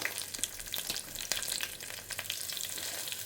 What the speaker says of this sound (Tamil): கடுகு பொரிய ஆரம்பிச்சுடுத்து